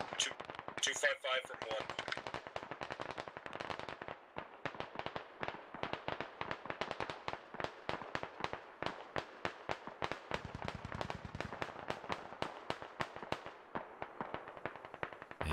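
Distant gunfire rattles through a squad-based military shooter game, a long run of sharp cracks and bursts that keeps going under radio chatter, with voices talking over the shooting throughout.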